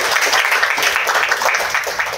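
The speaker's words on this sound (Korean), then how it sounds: "큰 박수로 맞이해주십시오." Brief burst of loud, close audience applause at a 30th anniversary ceremony and academic forum, dense continuous clapping filling the whole moment.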